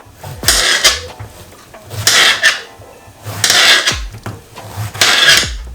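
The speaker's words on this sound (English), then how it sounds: "I'm just gonna cut the squash just like this" A knife slices through yellow squash on a kitchen board in four evenly spaced, crisp cutting strokes. Each stroke ends with a light knock of the blade against the board, close and clear with no talking.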